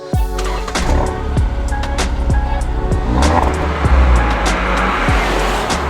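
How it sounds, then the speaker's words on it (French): An Alfa Romeo sports sedan engine revs up and down through repeated gear shifts, loud and close, with a brief tire squeal. "à bord d'une berline sportive Alfa Romeo"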